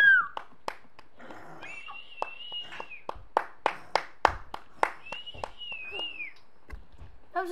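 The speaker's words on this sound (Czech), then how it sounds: "Nebo potlesk pro cech Dračí dráp." A few people clap sparsely in separate close, sharp hits with uneven spacing, mixed with sung or drawn-out vocal sounds at the start and at the end.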